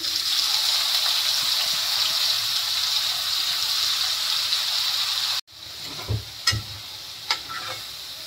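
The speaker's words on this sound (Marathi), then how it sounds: "आता ते टाकते कांदा." Finely chopped onion fries in a pan with a steady, loud sizzling hiss, which suddenly drops to a softer crackle broken by a few clinks of stirring.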